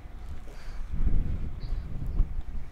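Cold wind blowing across the summit of Mount Wellington, Tasmania, a steady low buffeting rumble that swells and eases throughout, with no voices.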